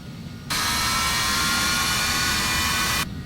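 Twin jet engines of an Embraer Phenom 300 in the Prepar3D flight simulator spool up sharply to takeoff thrust, a loud steady broadband roar and whine that holds for a few seconds before cutting back, with no talk.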